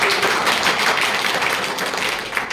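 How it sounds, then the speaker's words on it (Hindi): Dense, loud applause from an audience at a motivational speech and income-plan presentation, a steady wash of many hands clapping together without pause. "एक बार तालियां हो सकती है।"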